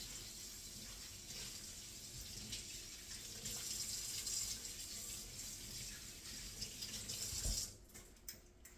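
Tap water runs steadily into a kitchen sink as dishes are washed, a continuous close rush of flowing water with faint knocks near the end.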